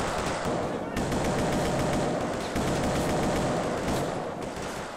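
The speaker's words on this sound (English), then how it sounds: "Shots fired." Loud, dense automatic gunfire from a GTA IV police-mod shootout rattles almost nonstop in rapid bursts, with only one brief dip before the shooting resumes, close and dominant throughout.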